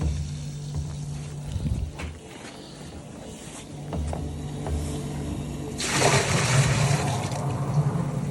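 Water rushing and gurgling into a well pump's impeller during priming, a steady wet churning that swells louder and brighter near the end, with low mechanical rumble underneath.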